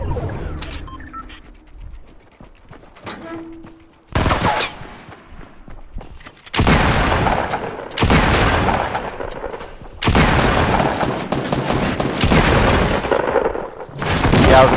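Bursts of gunfire in the battle royale game Fortnite, several loud volleys of rapid shots separated by short pauses, close and dense, with quieter game sounds between them.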